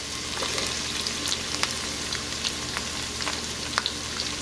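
Tomato sautés in a hot pan with a steady, close sizzle, broken by occasional light stirring taps and crackles, with no talking.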